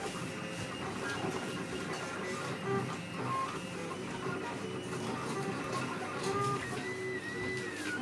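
A Weedo Tina 2 budget 3D printer at work, a continuous whirring hiss broken by chirpy, warbling stepper-motor tones that rise and fall, fairly quiet and heard close, with no voices.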